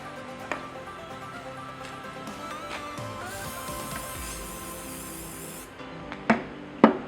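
Cleaner aerosol hisses from a can onto a cloth during a dye penetrant test, one steady spray burst lasting a couple of seconds, followed by a few sharp handling clicks and knocks nearby.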